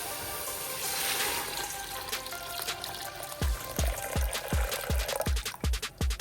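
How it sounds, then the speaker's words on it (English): Water is poured into a pot of dry lentils, a soft splashing pour that gives way to a quick series of sharp drips and dribbles close by, with no talking. "here I will add 2 cups of water."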